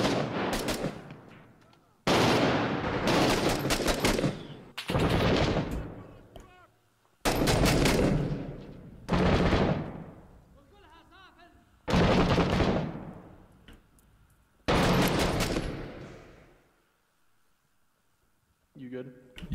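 Gunfire in Six Days in Fallujah, loud rapid automatic bursts in repeated volleys separated by short pauses, close and harsh with echoing tails, while voices talk between and over the shots.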